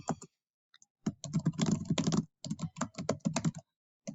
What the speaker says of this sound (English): I'm going to hit backspace and I'm going to type the delivery address myself.